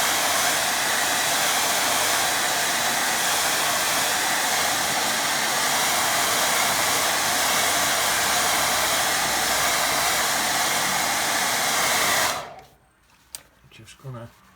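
A hair dryer blows steadily over a wet watercolour painting, a loud constant whooshing hum held for about twelve seconds before it cuts off, followed by faint handling noises.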